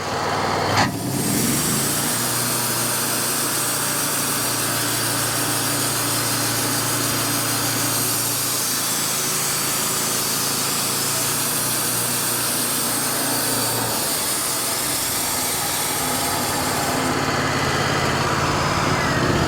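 A Wood-Mizer CookieMizer sawmill runs loud and steady nearby as its engine drones and the blade cuts slices from a log, with a brief change in pitch as the cut starts and ends.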